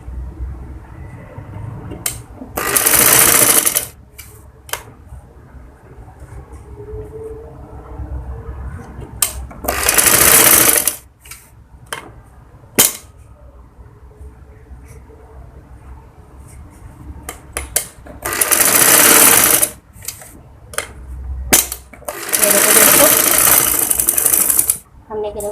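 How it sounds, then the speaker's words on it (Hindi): A sewing machine stitches the neckline corner of a baby frock in several loud, close bursts of rapid whirring, separated by pauses filled with quieter handling noise and faint talk. "यहाँ का जो कॉर्नर रह गया है उसको भी अच्छी तरह से अंदर पलट के सिलाई दे देंगे"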